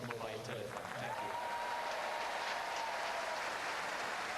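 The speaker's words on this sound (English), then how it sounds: "I cannot understand people who applaud that kind of announcement" Audience at a tennis match applauding after an umpire's announcement, a steady spread-out ripple of clapping from a crowd, faint and distant, with no pause.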